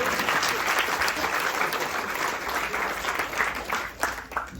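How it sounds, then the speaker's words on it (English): Audience applause at a couple's anniversary yagna ceremony, a dense, steady clapping from a crowd that carries on for several seconds without a break. "Give her a round of applause."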